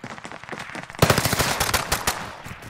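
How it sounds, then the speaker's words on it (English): Pistol gunfire in an online shooter video game: a rapid string of sharp, punchy shots bursts in after a second of quieter game noise, several cracks in quick succession, loud and close. "Downed them with a pistol."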